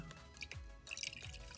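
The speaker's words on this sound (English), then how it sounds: "Pour our water." Water is poured into a dark, ink-like liquid during a chemistry kit experiment, giving a brief run of dripping and splashing that grows busier toward the end, fairly quiet and close.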